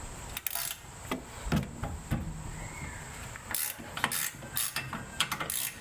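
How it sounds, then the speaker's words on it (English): A hand ratchet turns a 10 mm bolt on a 2015 Jeep Cherokee KL during rear half-shaft replacement, making quiet bursts of fast metallic clicking separated by short pauses, close up with no talking. "I think I'm going to have to use my regular ratchet here on this back one."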